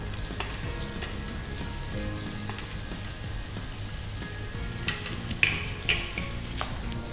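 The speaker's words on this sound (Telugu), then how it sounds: "దీంట్లో ప్రాన్స్ వేసేసుకుంటున్నాం." Prawns fry in ghee in a pan with green chillies, a steady close sizzle broken by a few sharper spatters and pops.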